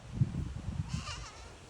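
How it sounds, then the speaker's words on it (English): A tiny full-grown goat bleats plaintively, a short wavering cry rising briefly over low farmyard rumble, fairly close but not loud. "that one little tiny goat who I've been assured by the owner is full grown, was just crying"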